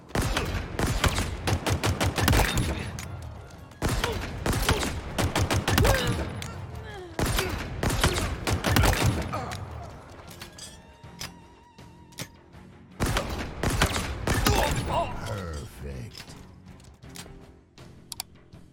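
Rapid bursts of Halo Infinite gunfire crackle through a match, loud clusters of shots separated by short pauses, with mechanical clicks and ambient game noise filling the gaps.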